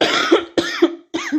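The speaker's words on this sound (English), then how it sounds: "Excuse me for coughing." Three harsh, close coughs in quick succession, each a short raspy burst with brief pauses between.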